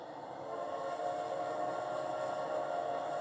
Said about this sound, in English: the only resemblance from the normal world was the sound of a train coming my way